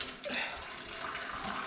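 Coolant pours steadily from the radiator of a 2021 Can-Am Renegade XMR ATV during a radiator relocation, a continuous close splashing trickle with no talk over it.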